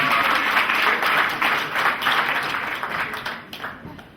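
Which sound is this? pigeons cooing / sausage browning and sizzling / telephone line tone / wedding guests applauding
wedding guests applauding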